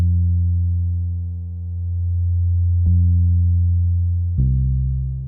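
A smooth, deep synthesizer bass line holds long sustained tones, changing note with two sharp attacks, loud and alone without drums.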